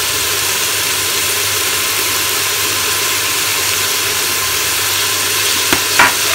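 Food sautés in a pan with black pepper and dried onion, giving a continuous, even sizzle close by, with a couple of brief utensil clicks near the end.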